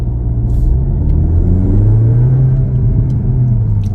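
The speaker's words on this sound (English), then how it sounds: "The exhaust sound becomes louder, and there's pops and bangs, the overrun sound" A Cupra Ateca exhaust rumbles loudly and steadily on the move, with a few faint crackles from pops and bangs on overrun scattered over the drone.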